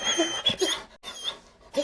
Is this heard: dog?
yes